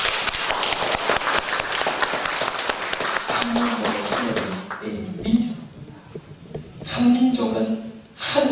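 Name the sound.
congregation applause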